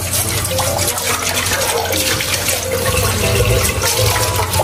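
Tap water runs steadily and loudly as rice is rinsed in a home kitchen, with a continuous splashing rush and no talk.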